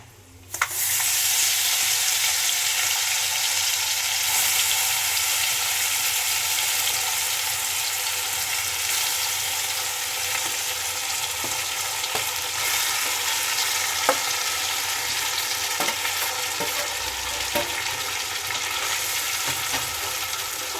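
Raw mango pieces coated in salt, turmeric and chilli powder hit hot oil with a bay-leaf tempering, giving a loud, steady sizzle of frying that continues throughout with occasional stirring clicks.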